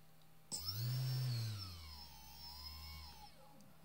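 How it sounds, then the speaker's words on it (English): Small electric motor on an ESC tester spins up with a whirring whine that rises, holds loud for a moment, then settles into a steadier, fainter hum before winding down, with no talking. "we can test our motor to see at what value the motor starts rotating"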